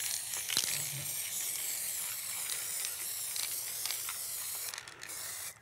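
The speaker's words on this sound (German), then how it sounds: "ich setze noch mal ein bisschen Wasser drauf und sprühe jetzt hier von der Seite drauf." Water sprayed from the side onto an acrylic painting makes a steady close hiss with faint mechanical clicks from the sprayer, ending in a brief sputter.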